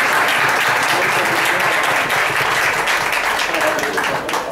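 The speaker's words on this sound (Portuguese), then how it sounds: "Palmas pra gente!" A crowd at a general assembly breaks into loud, sustained applause, dense clapping that fills the room and holds steady throughout before easing slightly at the end.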